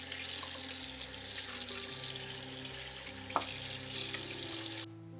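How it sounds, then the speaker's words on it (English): Pork chunks washed under a running tap, a steady close rush of water splashing into a sink, with a brief knock partway through before the flow cuts off abruptly at the end. "Start by washing the pork chunks."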